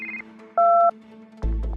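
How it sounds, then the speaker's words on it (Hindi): A phone gives electronic tones: a brief beep, a steady two-tone chirp, then a louder buzzing ring starts. "तभी आलिया को मेहुल का कॉल आता ह"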